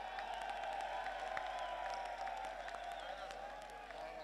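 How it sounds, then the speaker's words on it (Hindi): Large outdoor crowd at a PMLN political rally in Daska, Sialkot clapping and cheering steadily to welcome a guest, a dense continuous wash of applause with scattered whistles over a constant hum. "इनको तालियां बजा के इनका खैर मकदम करो"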